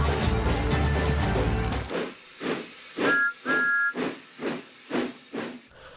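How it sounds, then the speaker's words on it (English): A steam engine lets off steady hissing bursts of steam in a regular chuffing rhythm, with a short, clear whistle peep sounding twice in the middle, after a louder noisy passage at the start. "Thomas started the carnival with a loud peep"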